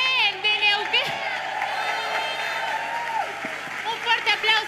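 Crowd at a women's celebration event applauding and cheering, clapping and whoops blended with a loud amplified voice calling out over the noise throughout.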